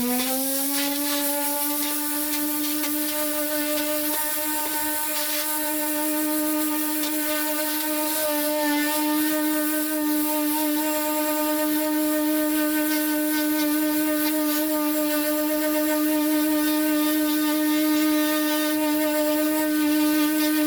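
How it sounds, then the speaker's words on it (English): Power sander with 80 grit sandpaper stripping gray paint from a pickup truck body, a steady loud whine with a constant pitch that rises slightly partway and runs without pause, no talking. "I'm gonna get myself some 80 grit and just go to town and sand it down."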